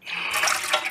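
Tap water runs and splashes in a short, close burst lasting under a second, with no talk over it.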